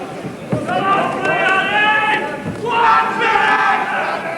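A North East boxing crowd in Sunderland cheers for fighter Billy Hardy, a dense, steady roar with shouts that swells twice, with a commentator talking over it.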